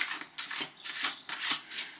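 Tarot cards being shuffled by hand give a quick series of crisp riffling bursts, about five in rapid rhythm. They sound close and fairly soft, with no voices.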